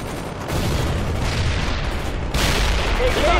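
Battlefield gunfire and booming grenade blasts in World in Conflict: Soviet Assault, a continuous rumbling barrage with a sharper, louder burst partway through.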